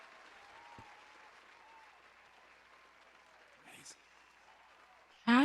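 Faint, steady applause from a small audience after a live piano performance at an online grief-support gathering, thin and distant, ending in a sudden loud close burst.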